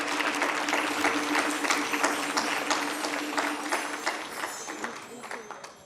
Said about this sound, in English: let's keep that round of applause going for Miss Chavera.